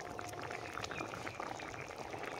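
Lentils bubbling in a covered pot, a steady, dense simmer of small pops and gurgles, fairly quiet and continuous with no talk.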